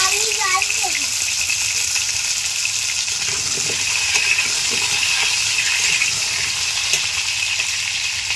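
Potatoes frying in hot oil in a wok in a home kitchen give a steady, close, broadband sizzle that runs unbroken throughout, with a few faint clinks near the start.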